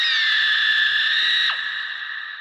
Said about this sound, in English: The scream. It was even louder and more terrifying.